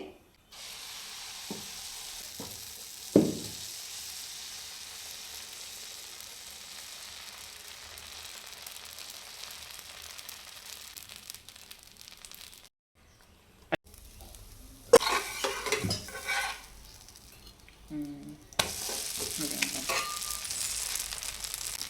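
Dosa batter cooking on a non-stick griddle in a home kitchen, a soft continuous sizzle close by, broken by a few clinks and scrapes, a short pause and then louder frying bursts.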